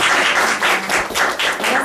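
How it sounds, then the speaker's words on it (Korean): A studio audience on a Korean book-talk broadcast claps in brisk, uneven waves, loud and close, pulsing in several surges over a short burst. "여러분들 큰 박수 보내주시기 바랍니다"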